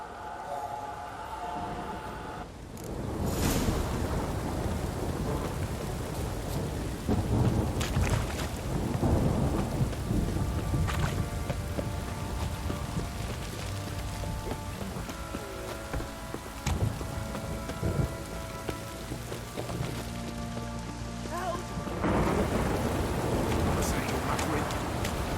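Heavy rain from a thunderstorm in The Witcher 3 video game, a constant downpour with deep thunder rumbles rolling in and out across the clip.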